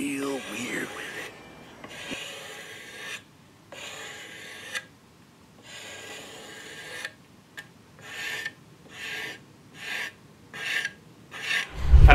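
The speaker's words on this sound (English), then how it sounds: "So I went through, sanded all the whiskers off." Sandpaper rasps across the wooden stock of a Kibler Woodsrunner flintlock muzzleloader kit, knocking down raised grain whiskers in a series of strokes, some long and some short and quick, close up with no talk over them.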